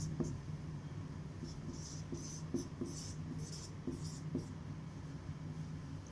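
Numbers being written by hand on a board during a ratio and proportion lesson, with light scratchy strokes in short irregular bursts over about six seconds, close and fairly quiet.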